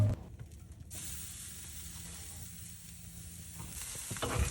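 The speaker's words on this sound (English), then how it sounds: "We're going to reverse sear these bad boys." Steaks searing on a grill after a reverse-sear rest, giving a steady hissing sizzle that swells sharply near the start, holds loud and even, then rises again at the end, with no voices.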